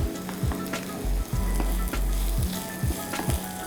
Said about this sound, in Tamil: நம்மளோட வெஜிடபிள்ஸ்லாம் நல்லா சார்ட் ஆகிட்டு இருக்குது